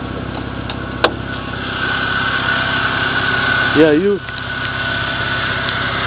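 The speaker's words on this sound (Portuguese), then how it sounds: "famoso motor 6 cilindros" A BMW 325i six-cylinder engine idles with a steady, even hum close by, while someone speaks briefly over it.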